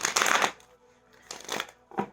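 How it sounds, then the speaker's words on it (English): Moonology oracle cards being shuffled by hand, two longer papery riffling bursts and a brief third one, close and fairly quiet, with no talk. "these are the Moonology cards that I'm shuffling"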